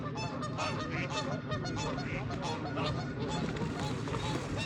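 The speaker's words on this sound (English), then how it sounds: "Geese." Geese honking loudly and continuously at a fishing lake, a dense chorus of overlapping calls close by, with faint voices underneath.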